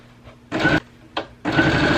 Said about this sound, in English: now I'm gonna sew around it.